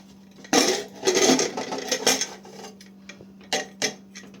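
A pressure cooker holding cooked mutton and potatoes is opened in a kitchen: a few sharp metallic clanks and clatters of the lid, close by, over a low steady hum.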